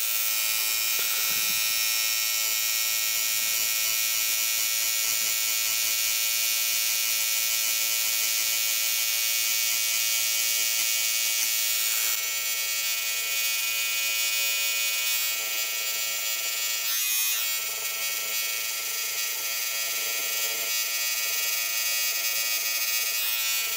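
Electric tattoo machine buzzing steadily and close while a rose is tattooed, a continuous bright whine with no talking, holding at a constant level through the whole stretch.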